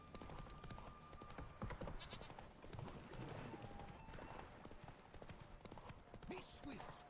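Horse hooves clip-clopping at speed for Roach the mare in The Witcher 3, a busy rapid rhythm mixed with game sounds and a voice talking over it.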